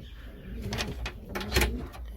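Racing pigeons cooing inside a dark breeding box, a few soft, low throaty coos rising and fading close by, with light rustling and a brief knock between calls.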